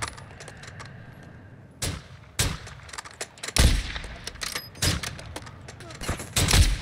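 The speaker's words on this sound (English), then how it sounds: "Incoming fire from northeast." Incoming gunfire in the video game DMZ: scattered sharp shots and short bursts crack out at irregular intervals, some louder and closer than others, while players talk over them.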